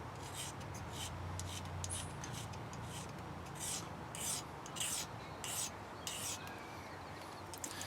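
A knife blade being sharpened in the field, repeated scraping and rasping strokes at an irregular rhythm, close and moderately quiet.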